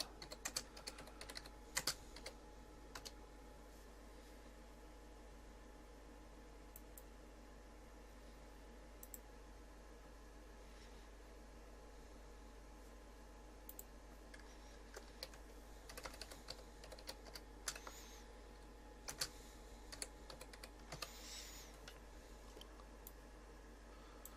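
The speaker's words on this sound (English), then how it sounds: "So again, just quickly type that in." Quiet, steady typing on a computer keyboard while text is entered for a sales letter, with scattered clusters of soft key clicks over a constant low hum, no voices.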